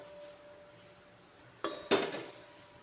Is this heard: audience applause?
no